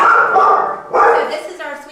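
A chained pit bull named Pepper, met during a rescue, gives two loud close barks with a whimpering yip after them. Speech is also present.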